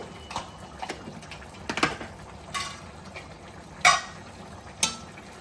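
A spoon stirs chicken curry in a pan after salt and turmeric go in, the dish made with green chillies and coriander; scattered light scrapes and sharp clinks of utensil on metal ring out over a low simmering hiss.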